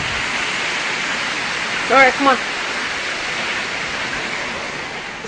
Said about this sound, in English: Hasn't been raining that hard in a long time.